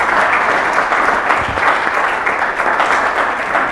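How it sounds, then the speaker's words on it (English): A room full of people applauding panelists at a Kendall Square, Cambridge event, loud, sustained and even clapping that holds steady for several seconds. "I would ask you to give them one more round of applause"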